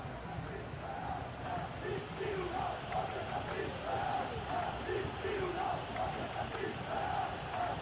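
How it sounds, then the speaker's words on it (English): A stadium crowd in the PES 21 football video game reacts to a Real Sociedad vs Real Betis match, a steady distant roar with swelling waves of cheering and chanting, while a commentator's voice talks over it. "Crowd appreciates good football all round there."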